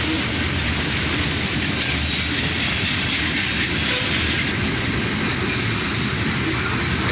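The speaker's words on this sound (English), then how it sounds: "Here comes the fourth locomotive." A CSX freight train with several locomotives rumbles past close by, a steady loud roar of heavy wheels clattering on rails that continues without a break.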